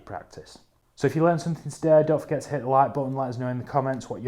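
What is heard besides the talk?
No distinct noise like a dog, phone or traffic.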